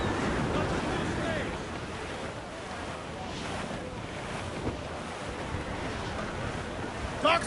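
Stormy sea in Assassin's Creed Black Flag: heavy wind roaring and waves surging around a sailing ship under dark skies, a continuous loud wash with a voice calling out over it.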